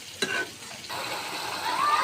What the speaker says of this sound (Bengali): এখন মশলাগুলো একটু কষিয়ে নেব।